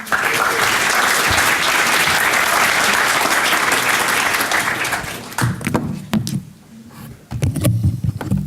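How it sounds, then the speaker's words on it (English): Audience applause at a lightning talk session of a Python programming conference, loud steady clapping for about five seconds that then thins into scattered claps, with a voice and microphone handling noises as it ends. "Big round of applause."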